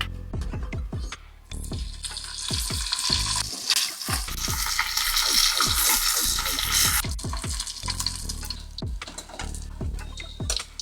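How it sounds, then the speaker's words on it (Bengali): Salted, turmeric-rubbed fish heads fry in hot oil with a loud, steady sizzle and crackle, broken by clinks and scrapes of stirring and a swell of spitting hiss midway. "এখন মাছের মাথায় নুন হলুদ মাখিয়ে গরম তেলে একটু কড়া করে ভেজে তুলবো।"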